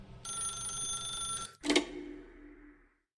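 A telephone rings in The Stanley Parable, giving a bright electronic trill for about a second and a half. A short sharp click or pickup sound follows, then it fades to quiet.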